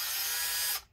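A small drill whirs steadily while boring starter holes in the plastic case of a Dell Inspiron 5575 laptop, close and continuous for under a second before stopping abruptly.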